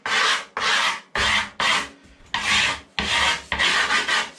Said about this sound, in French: En frottant sur le côté, ça va faire une belle marque et ça va permettre au grip de coller sur la planche.